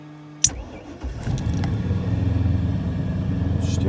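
The engine of a 1998 Air Nautique ski boat cranks briefly after a click, then catches and settles into a steady, close, low rumbling idle.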